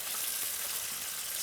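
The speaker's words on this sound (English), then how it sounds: "And you can see that the sizzling is just normal." Continuous bright sizzling of kidney frying in hot oil, close and steady with no voices.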